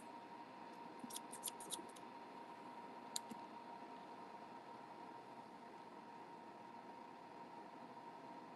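Scissors snip worsted weight acrylic yarn during crochet, a quick cluster of faint, close clicks followed by one more brief snip over a quiet room hiss.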